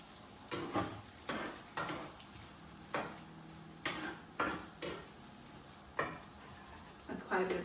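Onion being stirred in butter in a frying pan gives repeated utensil scrapes and clinks every second or so over a faint sizzle, soft and close, with no talk.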